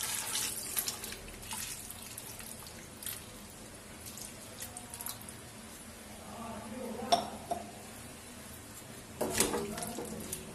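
Water poured from a vessel into a pan of raw papaya curry being cooked in a home kitchen, a soft splashing trickle with a few clinks, fairly quiet and close, with no talk over it.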